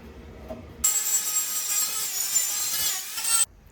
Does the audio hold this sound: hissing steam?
no